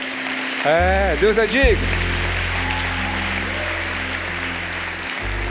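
A church congregation applauds with a steady patter of clapping throughout, while a voice speaks over it and a sustained keyboard tone plays beneath.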